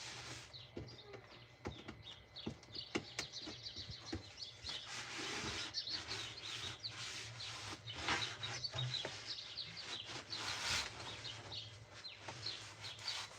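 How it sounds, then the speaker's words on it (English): Hand-sanding wooden countertop pieces between coats of finish inside a van being converted into a tiny home, producing soft, repeated rasping strokes at a steady, close rhythm, with faint chirping in the background. "before you put the next coat on it, you have to sand them"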